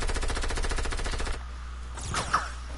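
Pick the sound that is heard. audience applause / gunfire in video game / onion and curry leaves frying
gunfire in video game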